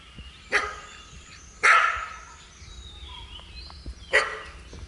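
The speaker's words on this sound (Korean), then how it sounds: "개 짖는 것도 크네요." Dog barking loudly outdoors on a temple tour in Kota Bharu, three separate sharp barks spaced a second or two apart, near and clear over faint background ambience.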